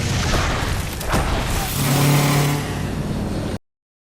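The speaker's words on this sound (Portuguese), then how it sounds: "como os ruídos dos carros nessa cena" Car engines roaring in a Mad Max: Fury Road chase scene, a loud rumbling rev that swells with a booming hit and a sustained engine drone before cutting off abruptly.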